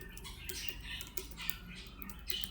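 Typing on a computer keyboard produces quiet, rapid clicking keystrokes in an irregular patter, heard close and alone over a low background hum.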